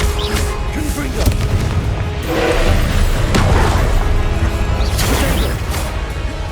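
Fiery blasts from the Confringo spell in Hogwarts Legacy on PS5, a loud sustained rumble of booming explosions and crashes with whooshing flares rising over a dense low roar.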